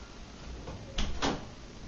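Knocking on a door inside a winery, two short sharp raps in the middle of a quiet room.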